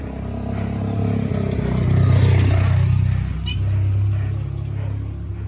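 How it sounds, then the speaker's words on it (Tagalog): A motorcycle passes on a steep mountain road on Mt. Timbac. Its engine rumble swells to a peak midway, eases, then rises again as it moves by, with people talking nearby. "Yun, may motor uli."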